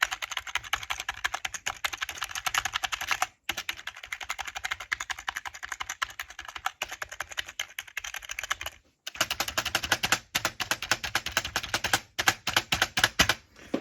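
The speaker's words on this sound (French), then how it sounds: "Et ici on avait des switch du coup plastique." Rapid typing on a computer keyboard fitted with plastic switches, with dense clacking keystrokes in quick bursts separated by brief pauses. It is close and fairly loud, with no voices.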